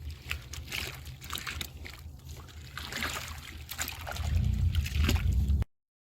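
A dye bath for military surplus gear is stirred with a piece of fence panel, making continuous sloshing and gurgling water sounds that swell louder toward the end before stopping abruptly.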